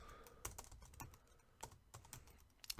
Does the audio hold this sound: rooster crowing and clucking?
no